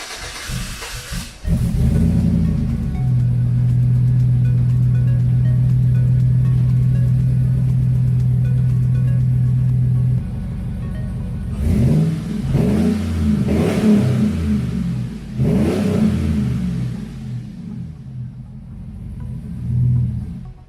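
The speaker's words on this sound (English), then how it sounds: "Nothing like burning oil to wake you up in the evening." Rusted Chevy Silverado engine revving, a loud, deep sustained roar held steady for several seconds, then a string of rough, rumbling throttle blips with hissing, all close by and without talk.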